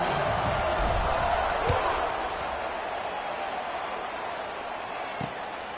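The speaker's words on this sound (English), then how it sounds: "this crowd is buzzing after that last score" A football stadium crowd buzzes during a college game between FAU and Georgia State just after a touchdown, a dense, steady roar of many voices that eases slightly as it continues.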